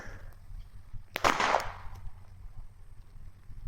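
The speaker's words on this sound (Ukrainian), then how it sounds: "І чи голосно ця забавка стріляє?" A single sharp toy gun shot pops out of a quiet background, followed by a brief fading rattle.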